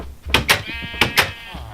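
Sheep in Minecraft let out four short bleats in two quick pairs, close and clear against a quiet background.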